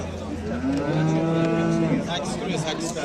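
A farm cow, mother of a third calf, lets out a loud, drawn-out moo that swells and fades over a few seconds, with faint background noise and no talk.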